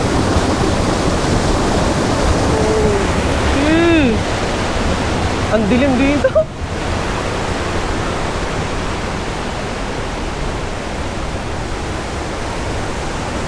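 A powerful waterfall at Zoe's Resort and Eco Adventure Park pours in a steady, loud, close roar of rushing water throughout, with people briefly talking and exclaiming over it.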